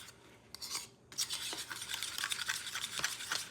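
Tomato sauce for pizza is mixed in a bowl, a spoon making soft, close swishing and scraping strokes in a quick, irregular rhythm, quiet and with no talking.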